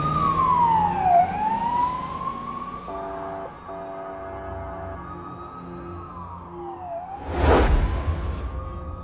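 A police siren mounted on a car roof wails loudly and steadily with rising and falling sweeps, joined midway by a rapid two-tone electronic pattern, then a brief burst of louder noise near the end.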